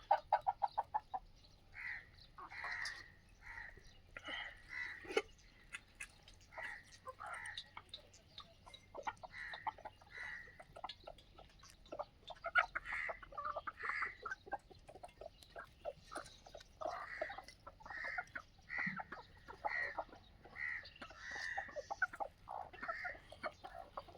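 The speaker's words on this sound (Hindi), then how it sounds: "ये प्योर देसी मुर्गी" Desi hens on a low-budget farm cluck and chatter in a steady, busy stream of short calls, with occasional louder squawks over a low outdoor background.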